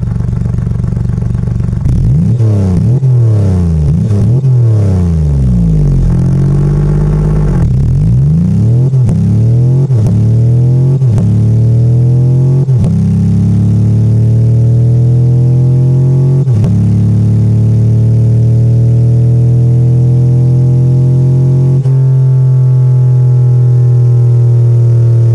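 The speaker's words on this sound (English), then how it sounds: "let's listen to one of these odd-fire V6 engines" A simulated odd-fire V6 engine revs repeatedly with rising and falling pitch sweeps, then climbs in one long steady pull to a sustained high-rev drone, loud and close throughout with no talk.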